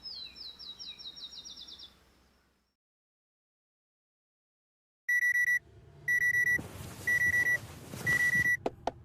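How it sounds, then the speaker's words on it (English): A video game alarm sounds in repeated loud electronic beeping bursts after a stretch of silence, following earlier chirpy tones and mixed with other game noises toward the end. "That lovely alarm sound."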